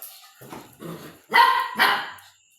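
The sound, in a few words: dog barking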